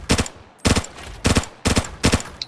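M16 rifle fire in the video game Arena Breakout: four loud, close bursts of rapid shots spaced evenly about two-thirds of a second apart, each a tight cluster of sharp cracks with short gaps between.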